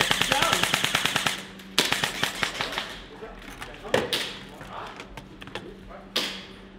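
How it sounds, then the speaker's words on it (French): Rapid bursts of airsoft replica gunfire crackle in quick repeated volleys, loud and sharp, followed by scattered single shots and thuds in an outdoor winter setting, with brief voices mixed in. "Benji, tu tires avec quoi? Ah, la réplique à Shakir."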